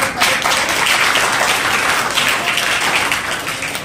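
Sustained loud applause from an audience greeting the chief guest, a member of the Rajasthan child protection commission, at a Children's Day event run by a child club, steady dense clapping throughout with no speech.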